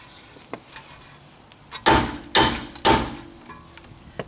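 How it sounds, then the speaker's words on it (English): A rear wheel bearing race from a 2003-2007 Honda Accord struck by a chisel, giving three sharp, loud metallic impacts in quick succession with a ringing crack, preceded by a few lighter taps. "It's a very distinct noise when a bearing cracks."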